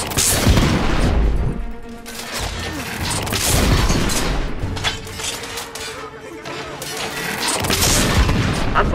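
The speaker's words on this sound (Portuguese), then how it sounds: "Estamos enfrentando fogo e artilharia pesadas no momento." Heavy artillery and gunfire in a battle scene at Westminster Bridge, with loud booms, crashes and rapid volleys rolling continuously and close up, and a voice speaking under the barrage.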